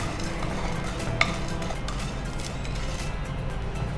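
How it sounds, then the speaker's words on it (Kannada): Chana dal and urad dal stirred while heating in a pan, giving a soft steady scraping sizzle with one brief sharp clink partway through, close and continuous with no voices. "ಈಗ ಸ್ವಲ್ಪ ಕಡಲೆಬೇಳೆ ಉದ್ದಿನಬೇಳೆ ಎರಡೂ ಬಿಸಿ ಮಾಡುವ"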